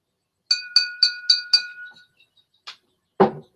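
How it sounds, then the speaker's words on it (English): A glass jar clinks as it is handled, five quick bright taps in a row, then a fainter tick and a duller knock, close and crisp in a quiet room. "Well, that's glass. You know, this is in glass."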